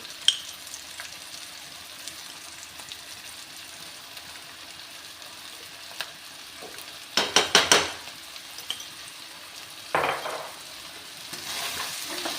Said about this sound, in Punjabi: ਚੰਗੀ ਤਰ੍ਹਾਂ ਆਪਾਂ ਇਹ ਨਮਕ ਨੂੰ ਵੀ ਸਾਰੀ ਸਾਰੀ ਚੰਗੀ ਤਰ੍ਹਾਂ ਮਿਕਸ ਕਰ ਦਾਂਗੇ